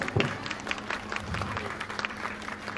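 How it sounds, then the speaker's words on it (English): Scattered clapping from a group at a school sports day lamp-lighting ceremony, fairly faint and uneven, with a low hum and some background murmur underneath. "Shall we give a big round of applause?"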